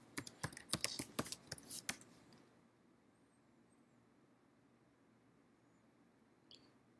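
Login details being typed on a computer keyboard, a quick run of crisp, close keystrokes for about two seconds, then quiet room tone with a faint click near the end.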